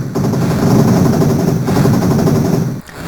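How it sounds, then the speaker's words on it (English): In the game Transarctica, machine guns fire a continuous, loud rattle of rapid shots close at hand. The burst drops off briefly near the end and then picks up again. "the machine guns are going to mow me down"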